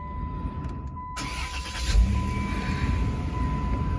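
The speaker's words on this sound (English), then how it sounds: "The engine idles nice." A 1995 Plymouth Voyager minivan's V6 engine idles with a smooth, quiet, continuous low rumble, steady and close, with no revving and a faint constant high whine above it.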